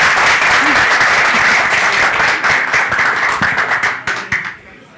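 Studio audience applause for a female singer on a Turkish TV music program, steady full clapping that fades out toward the end, fairly close and loud.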